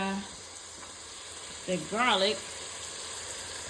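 Steady sizzling of garlic frying in a hot pan, with a brief voice sound rising above it partway through.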